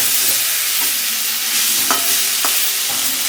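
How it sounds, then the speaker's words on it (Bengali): Ground spices, including Kashmiri chilli powder and black pepper, fry in a pan for a rohu fish and potato kalia, a loud steady sizzle with a few scraping stirs, close and without voices. "এখন জল দিয়ে দেবে তাই একে একটু নাড়িয়ে নিচ্ছে মশলা দিয়ে"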